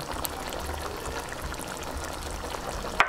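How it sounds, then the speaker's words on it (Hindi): Roughly a cup of water poured into a pan of chicken karahi already cooked with julienned ginger, a steady splashing pour lasting about three seconds, close up, with a brief clatter at the end. "1 cup के करीब मैं इसमें पानी ऐड कर रही हूँ"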